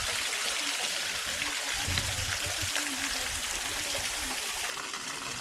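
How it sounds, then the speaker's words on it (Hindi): Small waterfalls in the Seven Sisters Falls area at Cherrapunjee Eco Park, Meghalaya, give off a steady broadband rushing hiss from a distance, unbroken throughout, with faint voices underneath. "नीचे वाटरफॉल बन के गिरता है।"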